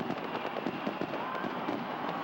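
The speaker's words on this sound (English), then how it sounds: "The fireworks go off." Fireworks burst over a baseball stadium after a 1979 World Series game, Orioles at Pirates, with a rapid, continuous stream of crackling pops heard from a distance at modest volume.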